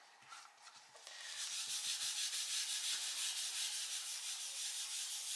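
Colored pencil rubbing across paper in a printed planner, a soft steady scratchy shading stroke that starts faint and quickly becomes a continuous close rasp with a gentle back-and-forth rhythm.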